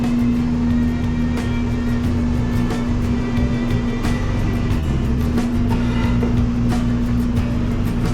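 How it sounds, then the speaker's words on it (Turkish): A ventilation exhaust fan runs steadily on a food truck in America, a loud continuous droning whir with a constant hum tone and low rumble, occasional faint clatters over it. "var havalandırma egzozunu da açalım."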